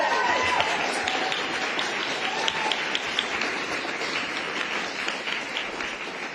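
An audience applauds a youth panel at a COP 28 session, a steady dense patter of many hands clapping at moderate distance that fades slightly over a few seconds, with faint voices in the background.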